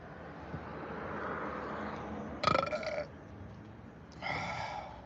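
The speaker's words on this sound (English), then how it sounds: "I blow a burp kiss to you" Two burps, one short and one longer, stand out over a low hum of background noise, close to the microphone.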